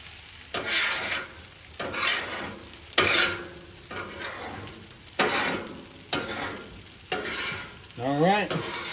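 Chicken fried rice stirred and scraped with spatulas on a Blackstone griddle, sizzling steadily with repeated bursts of metal scraping roughly every second, close and moderately loud, with no talking.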